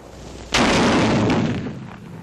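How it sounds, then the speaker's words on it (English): A 57mm recoilless rifle fires an HEAT shell at caves in the Pacific Theater: one loud, sharp blast followed by a long rumbling decay that fades over about two seconds, with no talk. "57mm recoilless rifle, also in action for the first time in the Pacific Theater"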